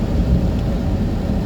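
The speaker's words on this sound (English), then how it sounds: "What you think about the rain in Barbados?" Steady rain falls in Barbados, a dense, even hiss of downpour with a low rumble underneath, loud and continuous with no voices.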